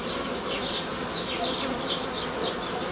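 Honeybees buzzing steadily over hive frames during colony splitting, a dense continuous drone with shifting higher whines of individual bees passing close.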